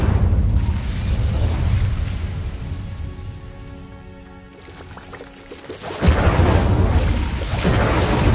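A fire spell cast in Hogwarts Legacy, heard as a loud whooshing, roaring burst that tapers into a quieter, tonal magical shimmer, then erupts again with another loud rush near the end. No voices.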